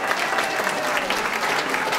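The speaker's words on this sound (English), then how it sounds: "Give them a great round of applause." A hall audience at a Slovenian association's 60th anniversary celebration in Geelong, Australia, gives a warm round of applause for the accordionists, dense, even clapping throughout.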